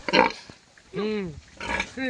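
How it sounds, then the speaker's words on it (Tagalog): A pig lets out a few loud, squealing grunts in short bursts, close by, with people talking around it. "Ang baboy."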